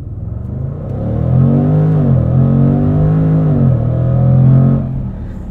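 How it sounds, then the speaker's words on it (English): A 2021 Jaguar F-Pace SVR performs a launch control start with traction control off, its engine revving loudly and rising through steady acceleration, dipping briefly at a gear change and then climbing again before easing off. "Let's try a launch controlled start. We'll turn off traction control."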